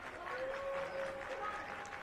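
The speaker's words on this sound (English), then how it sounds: "Crowd trying to get behind Freeman." A crowd at a high school 2A baseball semifinal applauds and cheers to rally behind the batter, a soft, steady wash of clapping and voices heard from a distance.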